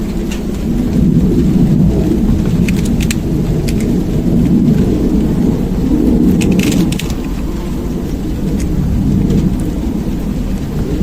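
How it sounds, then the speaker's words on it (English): Steady outdoor rain with occasional low thunder rumbles, a continuous loud wash of drops on surfaces with no talking throughout. "Oh, it's just started spitting the rain again."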